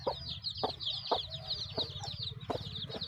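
Chickens and small chicks at a farm, with soft repeated hen clucks and dense high peeping from chicks, close and continuous, with no voices.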